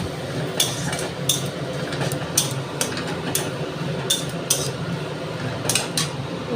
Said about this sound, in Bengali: পোস্তটা নেড়ে নিলাম।